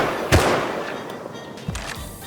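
Gunshots in the survival game Rust, two sharp loud cracks about a second and a half apart, with faint echoing tails and softer distant shots in between.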